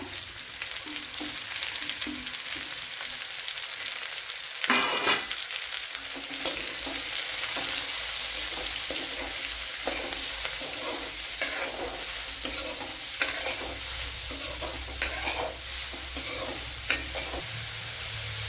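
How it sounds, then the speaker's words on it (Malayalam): Finely chopped large onion frying and being stirred in a pan for chicken thoran, a steady sizzle broken by frequent scraping stir strokes, close and fairly loud throughout. "ഒരു വലിയൊരു സവാള ഇതുപോലെ അരിഞ്ഞെടുത്തിട്ടുണ്ട് നൈസായിട്ട്. അത് ഇട്ട് കൊടുക്കാം"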